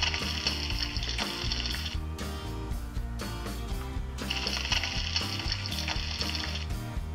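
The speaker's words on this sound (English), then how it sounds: "When you move the pan, you will hear a sound." A VTech Flipsies toy frying pan plays its electronic sizzling sound effect, a looping crackle of frying over bright synthetic tones, heard alone at moderate volume.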